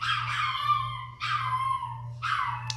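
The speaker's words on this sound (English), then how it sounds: "As my dog howls." A small dog howls indoors in three drawn-out, wavering howls, each rising and then trailing off, close and fairly loud over a steady low electrical hum.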